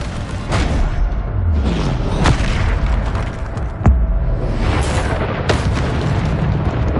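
Bombarda spell blasts in Hogwarts Legacy land as repeated loud booming explosions, about four sharp bursts spread over several seconds with rumbling between them.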